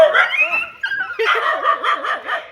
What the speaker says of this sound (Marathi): कुत्रे लागलेले आहे मागे